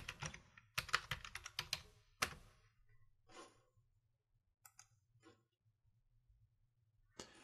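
Web address typed on a computer keyboard in a quiet room, quick bursts of close key clicks followed by sparser single taps and a final keystroke.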